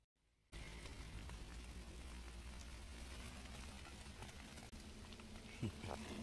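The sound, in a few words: rain starting to fall again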